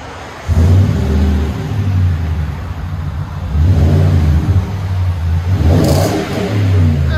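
Nissan Titan pickup with a 5.6L V8 and aftermarket exhaust, revved loudly and close up in several deep rumbling bursts that rise and settle over a steady idle.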